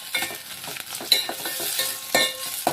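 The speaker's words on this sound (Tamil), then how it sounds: "தக்காளி போட்டிருக்கேன். இதை நல்லா வதங்கணும்." Tomatoes sauté in a hot pan for a crab soup, a soft steady sizzle broken by several scraping stirs of a spoon, close and fairly quiet with no voices.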